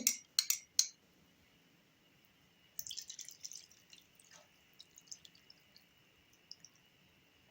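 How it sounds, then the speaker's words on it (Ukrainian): Ketchup or tomato paste and brewed tea poured over salaka fish laid in a container for homemade sprats; a few sharp drips and splashes at the start, then quieter scattered wet clicks and trickles. "Тепер вливаю наш кетчуп чи томатну пасту, додаю заварку нашу із чаєм."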